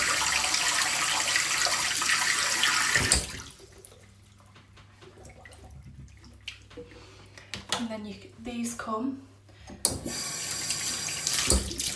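Warm water gushes loudly from a tap over hands, stops while a voice speaks briefly over quiet splashing, then the tap runs strongly again.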